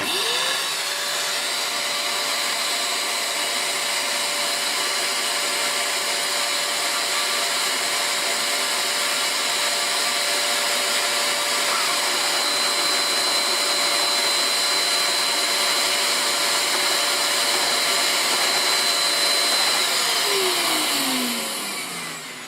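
A Dyson DC24 vacuum cleaner runs loud and steady with a whining motor tone throughout, its brush bar turning only slowly, and the motor winds down at the very end.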